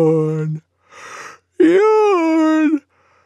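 A voice imitates a cartoon sloth yawning: a short vocal tone, a breathy sigh, then a long, loud, drawn-out yawn that wavers and fades, close and clear.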